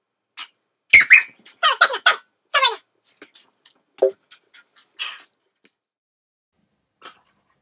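A dog in an apartment lets out a series of short, high squeaky whimpers and whines in quick bursts, loud and close, followed by a couple of fainter squeaks after a lull.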